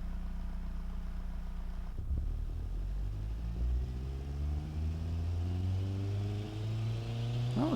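A turbocharged engine runs through a freeway-style reverse-flow and straight-through muffler setup, idling low at first and then climbing in rising revs, with the pitch sweeping steadily upward and no talk over it.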